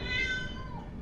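A single drawn-out cat meow rings out in the background, steady and moderately loud, trailing off slightly at the end.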